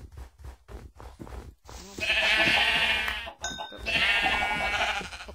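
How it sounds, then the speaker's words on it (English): Minecraft sheep bleat in-game, several wavering bleats rising over a low background after a few soft rhythmic thumps, fairly loud and close with no talk. "Oh, there's a big pack of sheeps."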